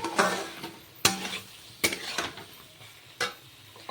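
Poppy seeds and okra being fried and stirred in a pan, with a spatula scraping and clattering in sharp irregular bursts over a low sizzle. The sound is close, and no one speaks.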